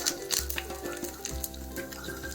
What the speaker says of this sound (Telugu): స్టవ్ వెలిగించి ముందు రెండు స్పూన్లు ఆవాలు తర్వాత వెల్లుల్లి